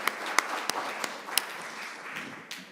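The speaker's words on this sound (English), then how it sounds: "So can we get a round of applause as they're making their way up here?" Scattered hand claps from an audience at a celebration event, thin and uneven with sharp isolated claps rather than full roaring applause, fading over a few seconds.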